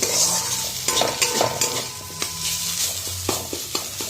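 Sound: vegetables frying and stirred in wok

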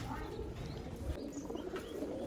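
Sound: pigeons cooing

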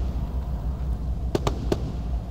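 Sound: gunfire into water from a boat in video game Arma 3

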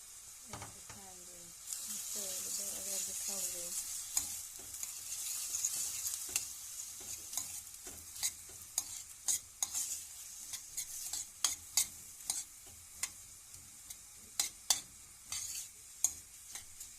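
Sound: tomato paste sautéing in a pan

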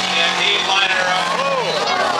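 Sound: demolition derby cars crashing into each other

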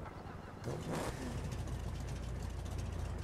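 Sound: drag car engine starting up in video game GTA 5

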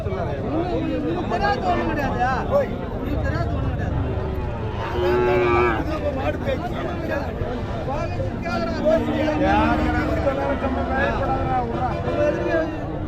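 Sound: cattle at a livestock market

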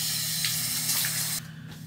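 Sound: water running from tap while washing face

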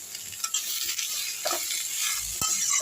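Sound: sautéing tomatoes and coriander in pan

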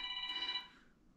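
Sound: phone ringing

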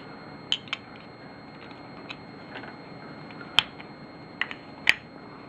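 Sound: Arisaka WW2 rifle bolt being reassembled

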